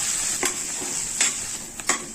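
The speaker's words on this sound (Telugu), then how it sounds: "ఉల్లిపాయలు పచ్చి వాసన పోయేంత వరకు వేయించుకుందాము" Chopped onions, thin-sliced green chillies and curry leaves sizzle steadily in hot oil for puffed rice pulihora, a bright continuous fry hiss with three brief stirring scrapes, close and alone.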